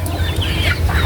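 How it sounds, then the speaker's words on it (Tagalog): Backyard chickens on a Filipino home farm clucking softly and steadily at close range over a low, constant background hum, with no talk. "na akong mga manok diri o"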